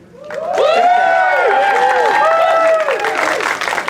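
A live crowd at a costume contest roars with loud cheering and yelling plus applause, sustained for several seconds, dense and close.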